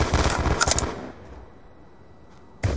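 A rapid burst of video game gunfire from a multiplayer shooter match, several sharp shots crowded together at the start, then a quiet gap before one more loud shot at the end.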